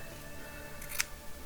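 A single quick snip of scissors, short and crisp, against a quiet background.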